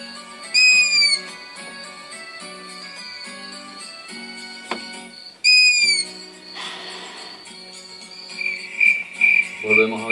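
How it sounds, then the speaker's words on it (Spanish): A long-eared owl calls with repeated whistled hoots in short bursts over a quiet night backdrop, with a faint high trill and a brief scratchy rustle between calls. "Ese es el búho chico o búho."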